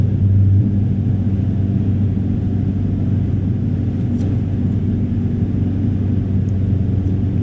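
A Honda Civic Si Coupe with a large aftermarket exhaust cruises along, giving a steady low, even drone and rumble from inside the cabin that holds constant without any revving.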